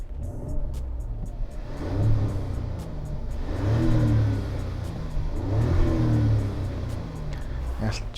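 A Mazda CX-90 with a 340-horsepower engine making 500 Nm revs up twice in rising surges over a steady idle rumble, heard close and fairly loud.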